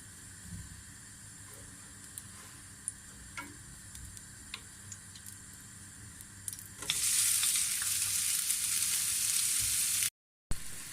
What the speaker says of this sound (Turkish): Köftelerimizi çok hafif soteleyeceğiz.